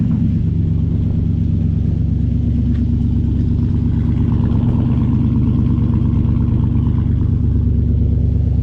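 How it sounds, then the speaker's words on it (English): A 1954 Chevrolet Handyman 150 station wagon engine runs with a steady, loud, close rumble that holds throughout, with no talking. "The old 54 Chevy station wagon. It's a Handyman 150. She always starts, if it's got juice."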